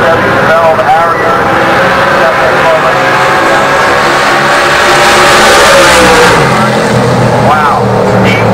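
A drag racing car engine revs loudly and continuously, with rising and falling pitch sweeps near the end, while an announcer talks over it throughout.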